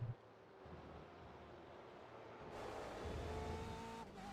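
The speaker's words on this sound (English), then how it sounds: "So we can hear that engine sound from these BMW M8 GTE cars here" BMW M8 GTE race cars at Road Atlanta in iRacing, a steady droning engine roar heard from onboard, faint and continuous, rising slightly in pitch and intensity partway through.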